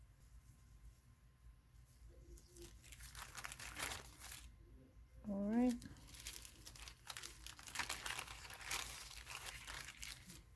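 Wet paper towel holding orange seeds being handled and crinkled up close, with soft rustling and tearing-like crackles across several seconds and a brief spoken remark in the middle.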